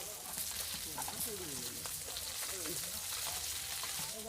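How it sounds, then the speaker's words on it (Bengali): Fish frying in oil in a wok, a faint steady sizzle with a voice talking over it. "কড়াইতে তেল দিচ্ছি তাহলে মাছটা ভাজ দিয়ে উঠে রাখ দিচ্ছি"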